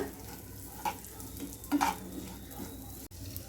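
Sweet corn stirred with salt, pepper and chilli powder in a pan, with soft scraping strokes and a faint sizzle underneath, plus a couple of light clinks from the utensil.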